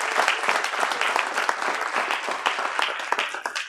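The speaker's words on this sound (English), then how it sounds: "Give them a hand clap." Applause and hand clapping from a congregation during a livestreamed religious gathering, a dense, steady patter of many hands at moderate volume, with no talking over it.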